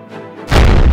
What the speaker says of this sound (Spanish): ¡Qué disparo tan fuerte!